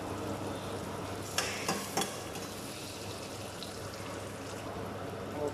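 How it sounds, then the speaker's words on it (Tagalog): Aromatics for pininyahang manok sautéing in a pan, giving a steady soft sizzle with a few brief scraping stirs of a utensil against the pan. "Saute lang po natin siya. Ayan, mix natin siya."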